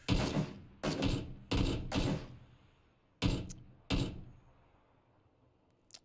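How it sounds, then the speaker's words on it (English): Gunshots in a video game crack out as a series of sharp, loud reports with short decaying tails, irregularly spaced with a long pause near the end. "we're seeing some pretty laggy gunshots here"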